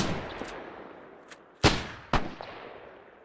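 Rifle gunfire in Arma 3, a British milsim WWII operation: two sharp, loud shots about half a second apart, plus a couple of fainter distant pops, over a steady background hiss.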